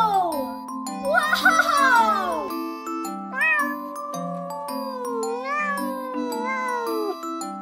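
A cat meows repeatedly in rising and falling calls inside a children's nursery-rhyme song, set against bright backing music with chime-like tones and a voice briefly heard.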